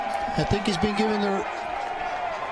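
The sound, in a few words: soccer crowd reacting to coach being sent off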